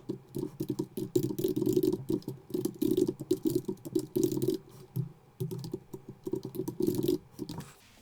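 Haskell code being typed on a computer keyboard, a close, steady patter of rapid keystrokes in bursts with brief pauses, and no talking.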